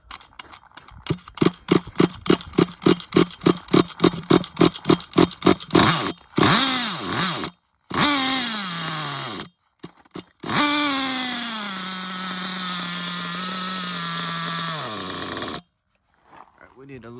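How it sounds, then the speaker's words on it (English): Nitro engine of an XTM Mammoth RC monster truck being pull-started: a fast run of rhythmic, rasping pull strokes, then the engine sputters, catches, revs loudly and idles before cutting out. "Looks like the pull start's working now."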